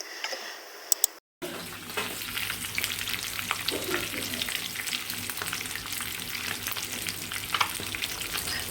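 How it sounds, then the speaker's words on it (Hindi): Fish sizzles and fries steadily in a pan for a home-cooked lunch, a continuous crackling hiss close by, with occasional stirring and no talking after a brief quiet start. "साथ में इसके हम ये येलो वाली दाल बनाते हैं और साथ में फ़िश फ्राई की थी।"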